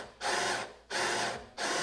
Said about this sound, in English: I'm gonna come from underneath and counterbore a little bit larger size drill bit hole up through there